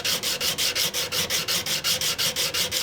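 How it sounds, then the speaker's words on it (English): A Stanley No. 151 spokeshave blade is rubbed back and forth on a sharpening stone, producing a steady, rapid rhythm of gritty scraping strokes, loud and close with no talking. "I'll take as much of that as I can out with this stone"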